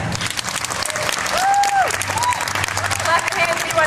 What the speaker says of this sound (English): clap your hands if you want to go with the good guys first